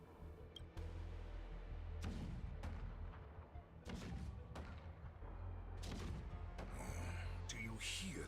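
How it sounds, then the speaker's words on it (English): Cannon artillery in Honkai Star Rail sounds as a series of deep booming thuds spaced a second or so apart, rumbling under a person talking. "The rumble of the cannons."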